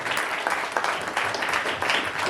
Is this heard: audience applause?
yes